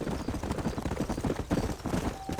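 Horse hooves clip-clopping at a steady trot in the Red Dead Redemption prologue on PS5, a dense rapid beat close up with ambient game sound and no talk.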